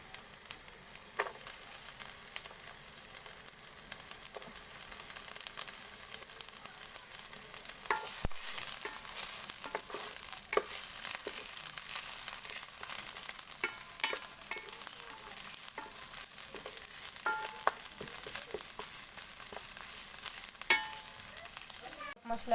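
Onions and chilies fry in oil in a kadai, making a quiet, continuous sizzle broken by scattered clicks and scrapes of stirring.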